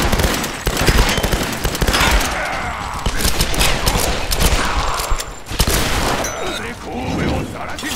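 Rapid automatic gunfire rattles in dense bursts with booming impacts during a firefight in the video game Tomb Raider, loud and nearly continuous across the whole span.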